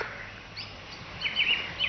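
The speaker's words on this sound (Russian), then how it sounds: "может, слышите? как, как птицы поют" Birds sing by a lake in a pine forest, with faint, high chirps and short trills rising over a soft outdoor hush, most noticeable in the second half.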